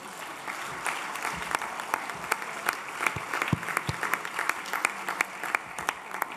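Applause from a sports conference audience welcoming arm wrestling into the federation, a steady clatter of many hands with scattered sharp claps standing out, moderately loud and sustained throughout.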